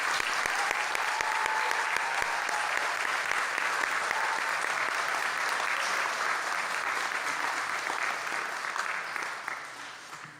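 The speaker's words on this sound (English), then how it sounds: "let's give them all a round of applause" A large graduation audience at a college campus ceremony applauds the class of 2023, with thick, continuous clapping that stays strong for about ten seconds before tapering off at the end.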